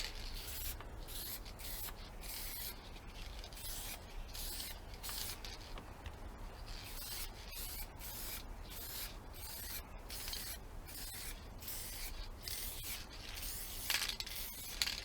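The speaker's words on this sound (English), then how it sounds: "Start spraying off the body and move in." Repeated short hissing bursts of spray paint from a can, rhythmic pulses with brief gaps, fairly quiet and close, with faint rattling.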